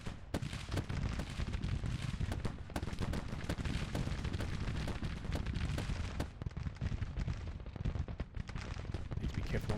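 Artillery bombardment in the Civil War strategy game Grand Tactician, heard as a dense, continuous roar of overlapping cannon blasts and rumbling impacts with sharper cracks scattered throughout.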